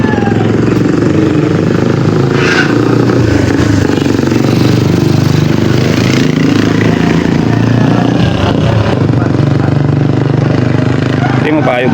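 A motorcycle engine runs loud and close, chugging and revving steadily throughout, with people talking over the noise.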